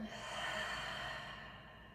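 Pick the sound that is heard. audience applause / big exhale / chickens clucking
big exhale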